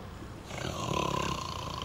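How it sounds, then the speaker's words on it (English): Echoing snores from someone asleep in a bus depot, a rough rumbling breath that swells after a quiet start and holds steady, reverberant and moderately loud with no talk. "that is a snore. Definitely an echoey snore."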